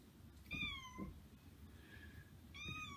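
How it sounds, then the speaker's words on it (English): A house cat meows plaintively in the background, two clear rising-and-falling meows and a fainter one between them, set against a low room murmur. "my cat is a little upset in the background"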